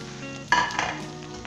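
Spices being stirred and fried in a pan for mutton ginger (adrak wala), a burst of sizzling with a scrape of the spoon midway, then a softer steady fry.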